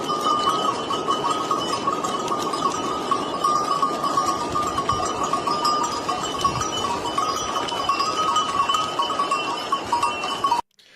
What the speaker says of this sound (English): We hear the sound of what appears to be cattle in the distance as missiles are flying directly overhead of this rancher.